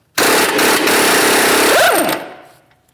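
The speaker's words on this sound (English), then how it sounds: "To remove the axle nut, we'll be using a 32mm socket." A 32mm socket on a power tool loosens the front axle nut of a Chevrolet Malibu. It gives one loud, continuous rattling hammer burst of about two seconds, then spins down briefly.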